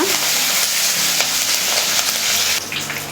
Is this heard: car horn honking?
no